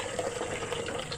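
Water gushes steadily from a hand pump, a continuous close splashing flow filling a container, with no voices heard over it.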